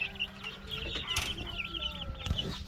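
Young chickens cluck and chirp in a new grassy hoop brooder coop, several birds close by with overlapping clucks and brief rustling or wing flutters throughout.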